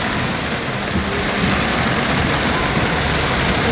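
Heavy rain pours down in a dense, continuous hiss and patter, loud and unbroken throughout, with no voices.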